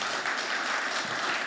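A press conference audience for the GAMA Revenant event bursts into steady, even applause, a dense, continuous wash of many hands clapping at once with no voices on top.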